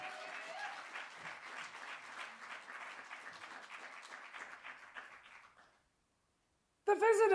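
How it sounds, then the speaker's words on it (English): Audience applause at a poetry slam, a steady dense clapping that fades out to silence, then a sudden loud burst of other sound at the very end. "So can we all give a massive round of applause?"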